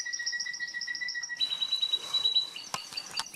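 A canary chirps and trills in quick, bright repeated bursts, close and clear, with no talking.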